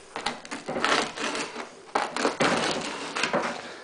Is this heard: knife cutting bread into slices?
yes